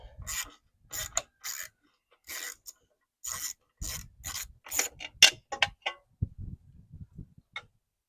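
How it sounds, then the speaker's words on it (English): A wrench turns to loosen a fan shroud bolt on a John Deere 2653A mower: close, crisp clicking ratchet bursts in an irregular rhythm, with quieter metallic knocks toward the end and no talk. "remove this fan shroud bolt, because I think that'll actually free this thing up and move"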